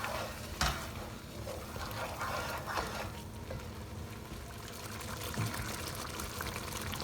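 Liquid sloshing and stirring in a pan of frying spices for chana masala as water is added, with a soft sizzle and a few sharp clatters of a spoon against the pot.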